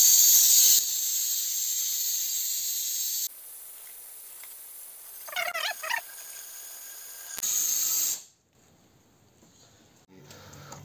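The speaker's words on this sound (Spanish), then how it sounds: "Yo para chuparle el líquido de freno utilizo esto que es como un purgador para purgar los frenos" A hand-held brake bleeder pump draws brake fluid out of the reservoir of an Opel Vectra C with a steady hiss of suction. The sound comes in long stretches, with a short squeaky burst in the middle and a quiet gap near the end.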